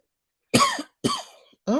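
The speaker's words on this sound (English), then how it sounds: "it seems like my cough has tried to return" A person with a returning cough coughs twice in quick, harsh bursts, with the start of a third at the end, close and loud against silence.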